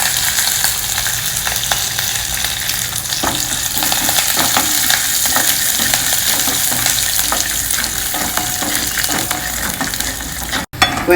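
Groundnuts roast in hot oil in a pan with grated ginger, chopped green chilli and curry leaves, giving a steady, close sizzle with repeated scraping and clattering from constant stirring, without speech.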